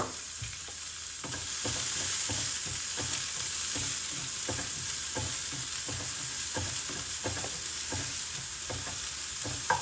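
Chopped onion frying in a pan for aval kozhukattai, a steady close sizzle with regular scraping stirs of a spatula through the oil, no voices.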